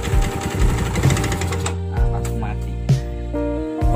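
A motorcycle with a fault that makes it stall under throttle putters at a close, rapid, rhythmic idle, then the beat stumbles and shifts to a lower, uneven chug with brief surges.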